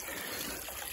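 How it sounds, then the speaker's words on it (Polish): Well water pouring out for watering a garden, a steady close trickle and gush spreading broad hiss across the clip with no talk. "jaka piękna woda leci z tamtej strony"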